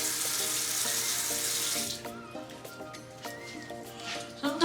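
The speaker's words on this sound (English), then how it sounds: "But we're gonna wash our face." Tap water runs into a bathroom sink during a face-washing skincare routine, a steady splashing rush that cuts to quieter trickles and drips, with light handling noises near the end.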